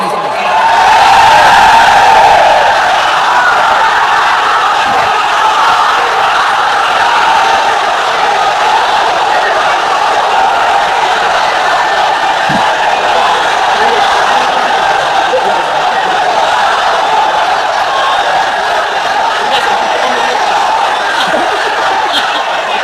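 A large crowd at an Islamic tafsir sermon gathering in Sylhet chants slogans together, a loud, dense, continuous roar of many voices that swells at the start and holds steady throughout.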